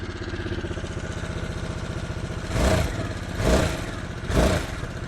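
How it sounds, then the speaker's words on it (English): Harley-Davidson Sportster S with its large V-twin engine, running steadily and close by, with three short revs swelling over the idle near the end. "right now I don't particularly like the sound of this motorcycle"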